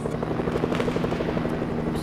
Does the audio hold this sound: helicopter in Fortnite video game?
yes